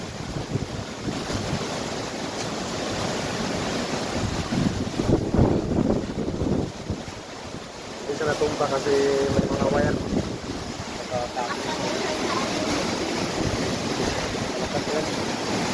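Sea waves crash and a strong wind roars into the microphone during Typhoon Opong, a steady loud rumble lasting throughout while someone talks over it.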